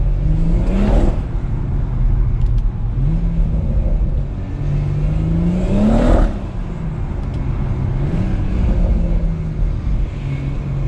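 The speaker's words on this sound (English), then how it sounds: "I realised the best way to make this car pop is to change gear and come off at the same time." A BMW M140i's stock engine revs up and drops repeatedly through gear changes, with brief crackles from the exhaust between shifts, loud and close.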